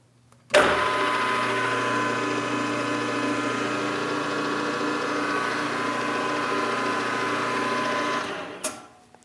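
A milling machine spindle fitted with an edge finder, run at about 1100 RPM, starting abruptly and holding a steady, even mechanical whine with a tonal hum for around eight seconds before spinning down.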